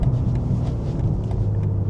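A BMW M4 running on flex fuel drives along, heard from inside as a low, steady engine and road rumble that stays close and constant throughout, with no talking.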